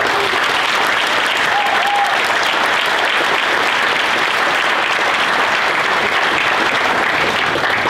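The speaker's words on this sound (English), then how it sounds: "Let's all give Kathy Gilmore a big round of applause." A large audience at an awards ceremony gives a loud, sustained round of applause, dense and steady clapping filling the whole stretch with no gaps.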